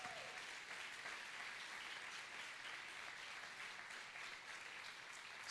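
A church congregation applauds at an anniversary service, steady sustained clapping from a large crowd filling the room at moderate level throughout.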